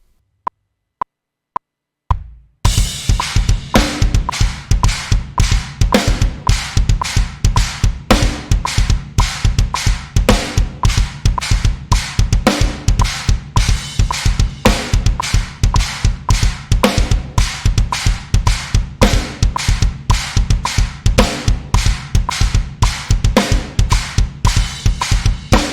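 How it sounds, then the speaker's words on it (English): A drum kit plays a steady, driving groove from a rock lesson, with a repeating kick pattern and snare accents falling on beat three, loud and dense for most of the clip after a few sparse count-in hits at the start. "So the next natural step would be to place a snare drum accent"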